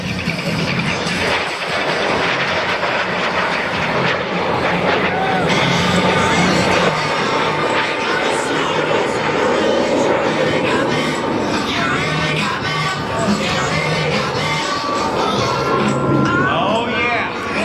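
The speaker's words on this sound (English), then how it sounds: "this is the aircraft that was designed by Cessna Aircraft" A Cessna A-37 Dragonfly jet roars past at an Oregon airshow in McMinnville, a broad, dense rushing whine that persists throughout, heard amid crowd noise and nearby talking.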